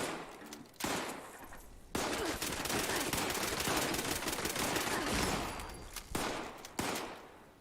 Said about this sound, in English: I can fire fast too.